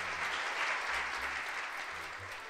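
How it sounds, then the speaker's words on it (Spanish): Steady audience applause fills a magic show venue, a dense continuous wash of many hands clapping that swells slightly and then eases, with no voices over it. "¡Fuerte el aplauso!"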